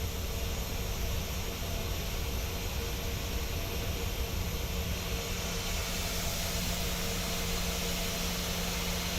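Boeing 737-800 jet engines idling while the airliner taxis in Microsoft Flight Simulator 2020: a steady, unbroken roar of rumble and high whine that holds at an even level throughout, with no voices.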